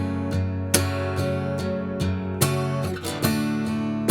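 An acoustic guitar strums chords from a song with steady down strums, about two per second, even and close with ringing strings and no voice.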